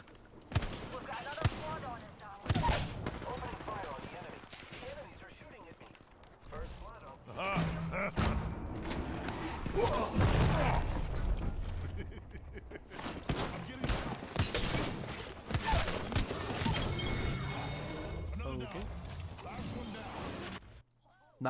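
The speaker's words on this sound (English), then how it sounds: "in that squad wipe, I missed some mad easy shots, and I hit some difficult shots" Gunfire from a squad fight in the battle royale video game Apex Legends, with repeated bursts and sharp impacts stacked densely across the whole stretch, loud and busy, and a voice talking over parts of it.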